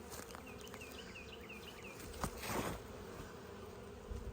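Honeybees buzz steadily around a wooden beehive, a close, continuous drone with a few faint chirps in the background.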